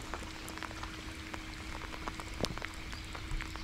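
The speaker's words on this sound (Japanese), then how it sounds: "雨が降ってきました" Rain begins falling on a rented bass boat on Lake Biwa, a steady fine patter with scattered sharper drop hits over a constant low hum, and nobody speaking.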